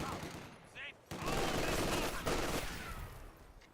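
An MG42 machine gun rattles off bursts in a Company of Heroes 2 battle, rapid gunfire surging loud after a short pause and continuing in a dense fusillade amid other combat noise.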